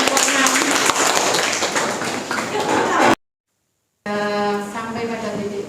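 Classroom applause for a presenting student group during a history lesson: brisk, dense clapping from a roomful of people that stops abruptly into silence, followed by a voice speaking.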